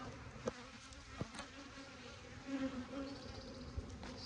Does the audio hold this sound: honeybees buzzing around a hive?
yes